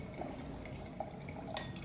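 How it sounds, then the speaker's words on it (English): Wine pours through an aerator into a stemmed glass, a soft continuous gurgle with small bubbling drips, close and quiet with no speech. "it's pouring and it's aerating as you can see the bubbles"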